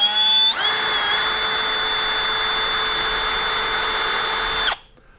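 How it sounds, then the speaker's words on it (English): A power drill whirs at a high, steady pitch for about four seconds, loud and close, then winds down and stops. "Drilled a hole without breaking a bit."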